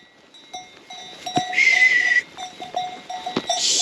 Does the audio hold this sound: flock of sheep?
yes